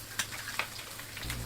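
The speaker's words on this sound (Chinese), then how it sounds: "煎麻油鸡蛋时，锅中的姜片也要不时的翻炒" Ginger slices stir-fried in sesame oil in a wok while sesame-oil eggs fry alongside, giving a steady close sizzle with a few sharp stirring scrapes and a low hum underneath.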